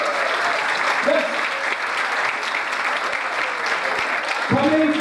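Audience at the Canadian Iranian Foundation gala in 2019 applauding a guest: steady, dense clapping that fills the room for about five seconds, with a brief voice breaking through near the start and again at the end.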